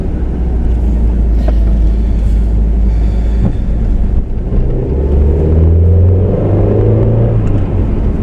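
A 2005 Mercedes A200 W169 with a manual gearbox drives uphill, its engine a loud, steady low drone heard from inside the car, the pitch shifting partway through as revs change, with no voices present.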